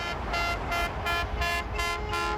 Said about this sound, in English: the guys in the work trucks that are honking and cheering